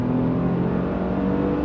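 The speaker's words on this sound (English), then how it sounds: "let's dump it one more time, gas down." A 2020 Audi A6 Quattro accelerating hard from a launch, a steady, loud engine drone with no break throughout, heard close from inside the car.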